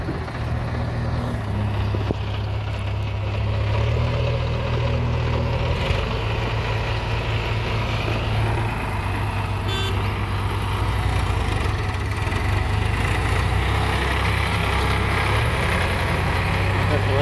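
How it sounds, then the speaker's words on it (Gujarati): A tractor engine, just started, idles with a steady low, droning hum that holds throughout at close range, while a person talks over it now and then. "ટ્રેક્ટર ચાલુ કરી દીધું છે હવે"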